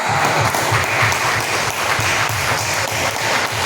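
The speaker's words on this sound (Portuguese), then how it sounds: "Agora eu te convido a dar a mais forte salva de palmas ao Senhor Jesus." Church congregation gives a strong round of applause to Jesus during a sermon, a loud continuous roar of clapping that fills the whole stretch with no speech over it.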